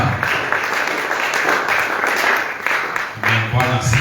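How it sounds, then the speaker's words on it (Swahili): Church congregation applauding to welcome the reverend to the front, a steady, fairly loud wash of clapping with brief voices and crowd noise rising near the end. "Pigie Bwana makofi mazuri mpaka afike hapa."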